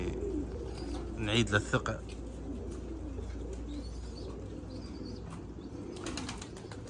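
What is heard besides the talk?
pigeons cooing and flapping wings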